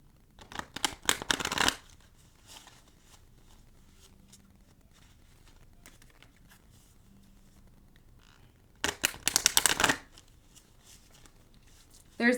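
Oracle cards shuffled up close in two quick crisp bursts of riffling and flicking, separated by a long stretch of near quiet.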